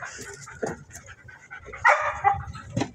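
A large K9 dog barks and whimpers close by, with a few sharp barks, panting and high whines in uneven bursts.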